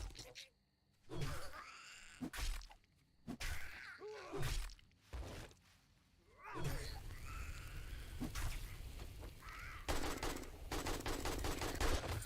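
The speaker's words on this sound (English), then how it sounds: "Oh gosh, it's strafing me." Gunfire strafing the player in the survival video game 7 Days to Die, with bursts and impacts scattered among groans and game noise, building into a denser stretch toward the end, under a player's talk.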